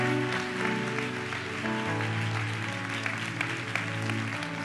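A church congregation claps together in worship, a steady dense wash of applause lasting several seconds over a sustained musical backing, with no talking.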